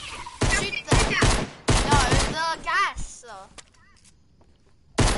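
Video game gunfire in sharp, loud bursts, several rapid shots in clusters followed by quieter moments and a final blast, mixed with excited voices talking over the action.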